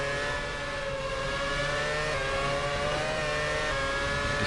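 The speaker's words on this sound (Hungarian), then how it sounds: "Forma 1-es autó" A Formula 1 car engine in a sim racing game at Monza drones continuously at high revs, a loud, steady whine with slowly rising pitch and no break in the sound.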